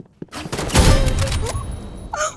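Gunfire in the Roblox game Rivals: a dense burst of rapid shots with heavy thuds, rolling on for about two seconds at close range, then easing off.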